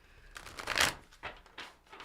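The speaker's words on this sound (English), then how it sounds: "One last shuffle." A deck of tarot cards is shuffled in a few soft riffling bursts, close and quiet, with one stronger flutter near the start.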